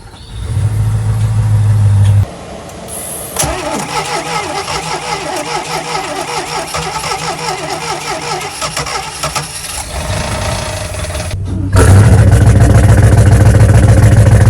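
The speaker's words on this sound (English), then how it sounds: "flip on the port engine. Engine ignition." Port-side marine boat engine, newly fitted with an HFP-706 fuel pump, cranks over and fires, then settles into a loud, steady idle close by, swelling louder near the end.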